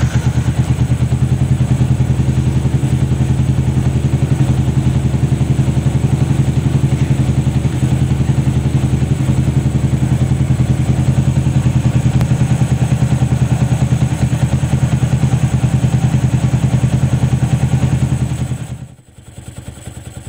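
A motorcycle engine idles loudly and steadily with a rapid mechanical chug for a long stretch, then briefly dips near the end.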